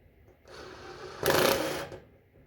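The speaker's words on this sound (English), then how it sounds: "Now I'm using a deep socket 1/2 inch right here so it can go all the way down without pressing on the nut." A nut being tightened with a 1/2 inch deep socket during assembly of a Harbor Freight 30-inch toolbox cart: a brief mechanical whirring burst that starts, swells louder for about a second, then stops, close by with no talking.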